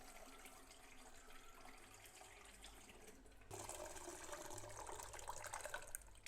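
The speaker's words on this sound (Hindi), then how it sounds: "हमने लिए आधा किलो चावल और इनको अच्छी तरह धो लेते हैं" Half a kilo of rice is washed in water: continuous splashing and running water, moderately close, growing louder and busier partway through.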